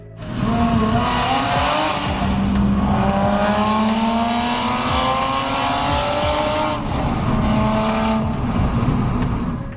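A Porsche 996 sports car engine with an induction kit roars loudly through its exhaust, revving up through gears with rising and falling pitch, sustained and close.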